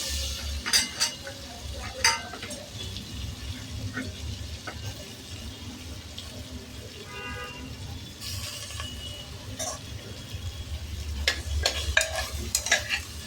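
Carrots and other vegetables for a healthy winter soup frying in butter in a pan, a continuous sizzle broken by repeated scraping and clinking of a spoon against the pan, with occasional louder stirring bursts.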